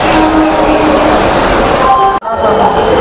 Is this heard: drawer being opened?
no